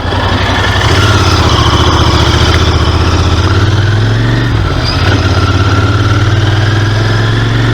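A Royal Enfield motorcycle engine runs steadily nearby at a loud, even idle with a deep, throbbing thump. A brief dip in the engine note breaks it about midway.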